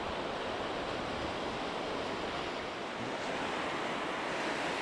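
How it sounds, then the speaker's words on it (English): Sea waves rolling onto the beach at Cromer, North Norfolk, as the tide comes in below the cliffs, a dense steady roar of surf with some wind, no voices. "Cliffs there, look, overlooking the beach, and the tide's coming in."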